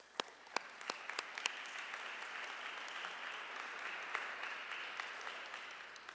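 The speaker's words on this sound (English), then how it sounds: "Let us acknowledge that with a round of applause." A round of applause from the audience at a university Veterans Day service in a memorial chapel, with a few sharp early claps and then a soft, steady, moderately distant patter that lasts throughout.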